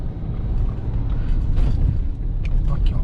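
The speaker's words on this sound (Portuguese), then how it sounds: "Aqui, ó, freio motor." A Ford Ranger XLS V6 pickup engine brakes in a low gear down a steep hill, a steady low rumble with road and cabin noise from inside, continuous and moderately loud.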